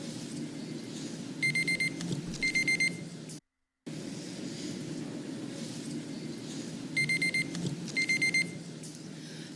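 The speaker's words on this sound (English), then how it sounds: "and then this little beeper goes off." A small electronic beeper sounds in two bursts of rapid high beeps, each burst a few pulses long, with a short gap and a repeat after it, over a steady low background hum.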